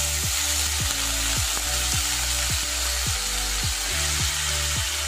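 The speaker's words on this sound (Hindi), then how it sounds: "अब हम इसमें 2 मीडियम प्याज कद्दूकस किए हुए डालेंगे" Grated onions hit hot oil with cinnamon and bay leaf, producing a loud, dense, unbroken sizzle up close, with a faint regular thumping beat underneath and no voices.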